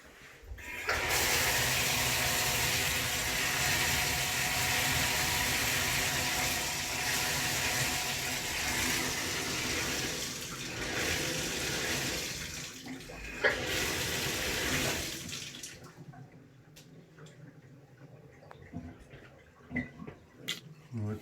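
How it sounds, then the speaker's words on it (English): Tap water pours steadily into a bathtub for about fifteen seconds in a home plumbing setting, a loud, continuous rushing splash that then stops, leaving faint drips and small knocks. "I'm going to run the tub a little bit."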